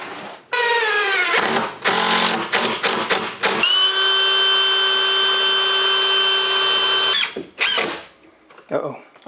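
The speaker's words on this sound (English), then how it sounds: "Drill them and screw them." A power drill drives screws while a kitchen is fitted at an off-grid cabin, with short bursts and then one long steady whine of rising pitch, close and loud, followed by brief talk.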